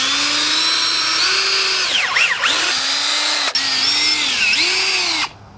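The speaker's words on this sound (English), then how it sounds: "So the next step is to drill the pilot holes." A power drill bores pilot holes for fence gate hinges, whining loud and close in two sustained runs, its motor pitch dipping under load before a brief stop and a final cut-off.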